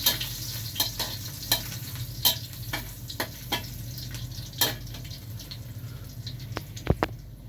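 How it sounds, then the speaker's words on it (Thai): Garlic stir-frying in hot oil in a pan for pad kra pao with minced pork, a continuous close sizzle with repeated rhythmic scrapes and clacks of a spatula against the pan. "กระเทียมลงไปเลยครับ"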